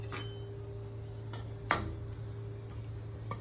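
Fried garlic being mashed with butter in a bowl for garlic bread, with a few sharp utensil clinks and taps against the dish over a steady low hum, one louder knock standing out.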